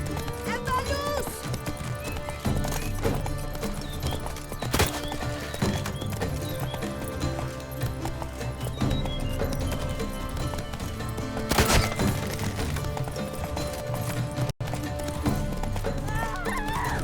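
Horse hooves clip-clopping at a gallop in The Witcher 3: Blood and Wine, a dense, continuous patter under music and in-game voices, with a neigh mixed in.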